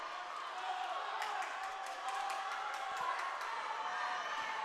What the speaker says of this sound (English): Crowd is cheering on the team.